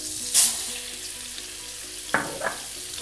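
Vermicelli frying with cardamom in a pan for a sweet milk dish, producing a steady hiss of sizzling with a couple of brief stirring scrapes, close up and without voices.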